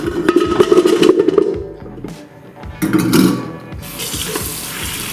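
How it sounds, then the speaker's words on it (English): Water runs from a tap and splashes into a pot of potatoes, the tone shifting as it fills, with a brief pause and clinks before flowing again. "fill with cool water until all of your potatoes are covered by a couple of inches"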